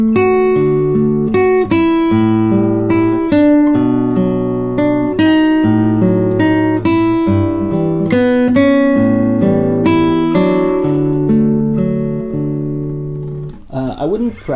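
Sor's Study No. 6 played on classical guitar with the melody notes exaggerated and heavily accented over softer accompaniment, a clear, close, continuous passage that fades out at the end.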